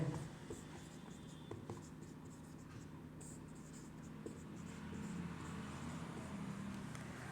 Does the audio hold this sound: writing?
yes